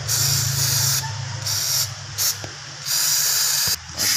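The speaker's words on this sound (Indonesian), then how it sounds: "Kita semprot lagi dengan kontak cleaner ya." Contact cleaner sprays from an aerosol can onto the CMP and CKP sensors of a Toyota Avanza. Several loud, close hissing bursts come in sharp on-off pulses, with a low rumble underneath and no talking.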